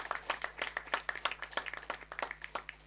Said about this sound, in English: We require a real one more round of applause for both of them.